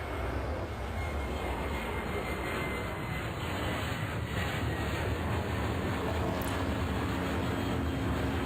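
An airplane takes off in the airport-control game Airport Madness, a steady broadband roar of jet engine noise held at moderate level without any voices.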